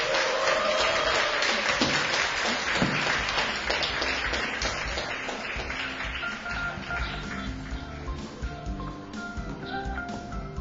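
Audience applause at the opening ceremony of a Chungbuk citizens' college course, a dense, steady wash of many hands clapping together that carries on and slowly thins near the end.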